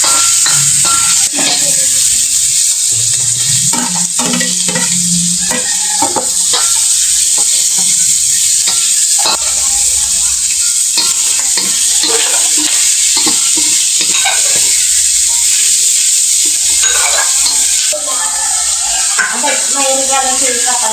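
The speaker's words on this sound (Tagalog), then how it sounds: "igigisa na po ang karne. Isa na rin po ang sibuyas bawang." Meat sautéing with onion and garlic in a hot pan at a birthday gathering, a steady loud sizzle with stirring scrapes throughout, with faint voices in the background.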